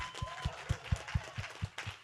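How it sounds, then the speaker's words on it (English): Brief applause for a panel at a generational wealth summit, with a handful of distinct, rhythmic claps standing out over faint crowd noise, fairly quiet. "Clap it up for this panel."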